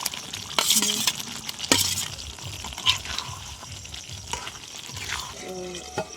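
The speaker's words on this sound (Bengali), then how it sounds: "আলুগুলো দিয়ে দিচ্ছি, দিয়ে ভালো করে কষিয়ে দেবো।" Potatoes and green peas are stirred and sautéed with salt and spices in a pan for a vegetarian aloo dum. A close, steady sizzle runs under repeated scraping stirs, with faint music in the background.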